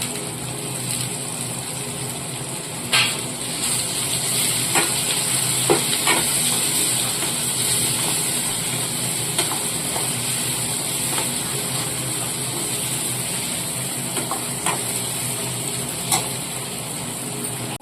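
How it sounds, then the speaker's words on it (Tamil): Onion and tomato sauté in a pan for a Tamil fish kulambu, giving a steady loud sizzle with occasional stirring clicks of the spoon, no talking. "வெங்காயத்தக்காள் வதங்கிட்டு இருக்கு"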